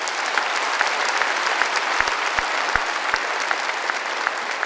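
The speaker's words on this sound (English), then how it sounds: "Let's give our international partners a round of applause." A large audience at a sergeants major course graduation claps for international partners, sustained dense applause with a few sharp close claps standing out, no talking over it.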